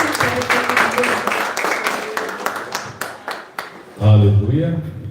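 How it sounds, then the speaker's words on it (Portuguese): A church congregation at a Portuguese-language service applauds in a dense, steady burst of clapping for about four seconds, then it gives way to a voice speaking or singing loudly over fading applause. "Você pode aplaudir e pode se sentar."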